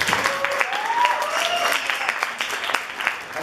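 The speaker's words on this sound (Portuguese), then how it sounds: "Palmas." Audience applause at the opening session of an academic event, a steady wash of clapping from a crowd with brief voices mixed in, moderately loud throughout.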